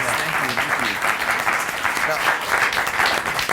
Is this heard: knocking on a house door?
no